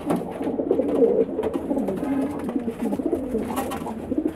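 Wild rock pigeon settling onto its eggs in a nest, cooing in low repeated throaty rolls that run steadily without pause, close and moderately loud, with no voices over it.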